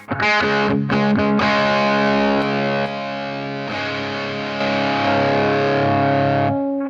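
An electric guitar played through a Zander Circuitry Cranium distortion pedal rings out in thick, sustained distorted chords after a few quick strums, loud and alone, with a slight drop and return in level midway.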